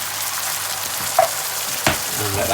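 Tinned tomatoes hiss and sizzle as they hit a hot pan for shakshuka, a steady close frying noise with a couple of brief spits.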